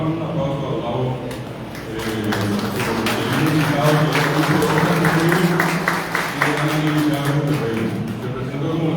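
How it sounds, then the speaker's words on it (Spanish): An audience at a Guarani language month book launch applauds a guest's arrival with steady, moderately loud clapping, while a voice keeps talking over it. "vamos a dar un aplauso a Olavo"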